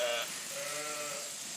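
Ewes bleat during a sheep shearing with two shearers at work, giving a sustained wavering bleat that follows a brief higher call, loud and close over steady farm background noise.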